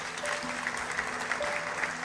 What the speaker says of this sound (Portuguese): Uma salva de palmas para todos os voluntários aqui da comunidade.